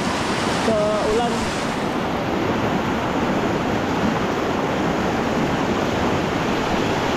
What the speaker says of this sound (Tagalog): Lumalakas yung agos ah. Naipon kasi yung tubig sa ulan.